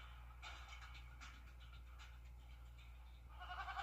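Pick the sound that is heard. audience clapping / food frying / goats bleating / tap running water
goats bleating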